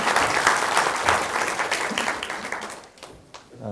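A lecture-hall audience at a real-estate colloquium applauds loudly and steadily, the dense clapping tapering off toward the end.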